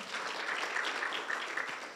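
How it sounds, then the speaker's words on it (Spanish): A church congregation claps at a Spanish-language worship service, a soft, even patter of many hands heard from a distance with a faint whistle-like tone riding over it. "Démosle un aplauso al Señor"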